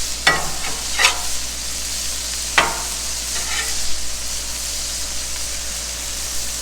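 Mushrooms frying on a Blackstone griddle, a constant close sizzle broken by a few sharp scraping strokes of a spatula turning them, no speech.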